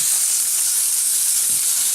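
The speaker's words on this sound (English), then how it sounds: "We have some more in the frying pan cooking." Pork chops sizzle steadily in a frying pan, a loud continuous hiss and crackle of hot fat with no pauses and no talk.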